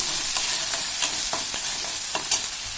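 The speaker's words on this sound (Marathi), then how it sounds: "व्यवस्थित हे मिक्स करून घ्यायचं आहे" Spatula scrapes and stirs masala paneer bhaji around a pan over a low gas flame, making repeated close scraping strokes over a soft, steady sizzle with no talking.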